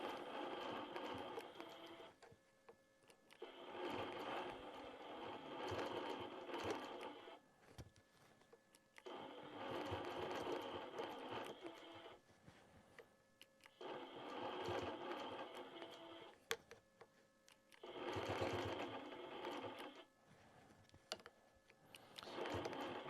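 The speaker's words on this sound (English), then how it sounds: "I like to stop my machine and start it every time I turn the ruler." A sewing machine quilts with monofilament thread along a ruler, running in steady mechanical bursts of a few seconds each, stopping and restarting five times with quiet pauses between.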